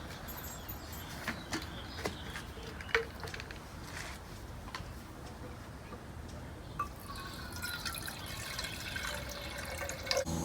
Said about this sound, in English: once you measure out your water,